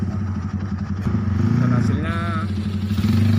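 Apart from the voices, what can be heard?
Honda Tiger motorcycle engine running after rebuild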